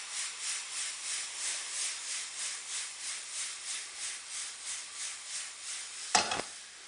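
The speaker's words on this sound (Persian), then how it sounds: "به محض اینکه پودر سیر رو اضافه کردیم سریع باید اون رو هم بزنیم تا مبادا پودر سیر ما بسوزه" A spoon stirs garlic powder frying in a pan for mushroom stew, making rhythmic scraping strokes roughly twice a second over a soft sizzle, with a sharper knock near the end.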